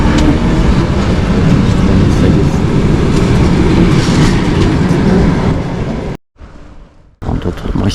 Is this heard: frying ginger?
no